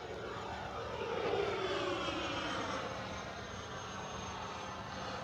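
A faint, distant whooshing whine from an FMS SU-27 RC jet with twin 70mm ducted fans passes overhead outdoors, swelling slightly then fading into a steady far-off drone.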